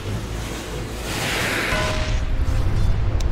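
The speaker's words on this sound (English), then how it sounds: "Fireworks!" Fireworks explode in a video game, a rising whoosh that swells into a loud crackling burst amid busy game noise, with a short high ping near the end.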